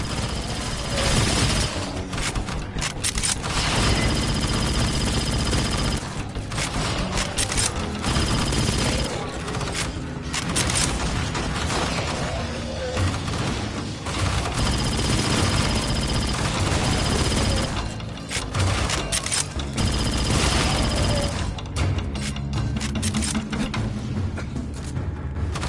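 Dense, continuous weapon fire in Aliens Fireteam Elite, as shots hit capacitors on the side of a structure; rapid bursts stay loud throughout over a thick game soundtrack, with voices faintly in the mix.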